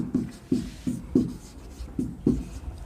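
Pen or marker strokes writing math on paper or a board during a sequence-and-series lesson, about seven distinct scratchy strokes at a steady rhythm, close and moderately quiet with no talking.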